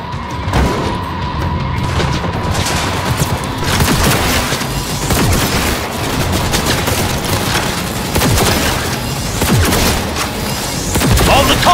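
Sustained gunfire erupts during a vehicle chase in Cyberpunk 2077, with heavy engine noise underneath. Loud, dense volleys of shots and crashing impacts continue almost without a break, and brief shouts come through now and then.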